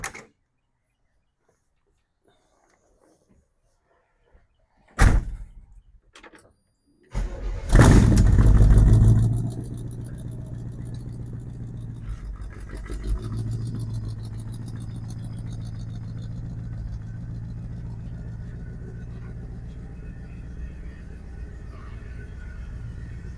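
A 1957 Chevy Bel Air cranks after a few seconds of quiet, fires up with a loud rev, then settles into a steady, rumbling idle close by.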